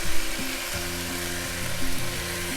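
Ground beef sizzles and fries in a pan with a steady hiss, punctuated by scraping and stirring clatter.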